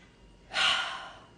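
A single deep breath drawn in through the nose or mouth, close and clear, swelling quickly then tapering off over about a second, with no talking around it.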